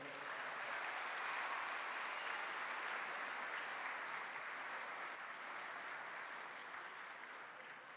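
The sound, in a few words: applause from a church congregation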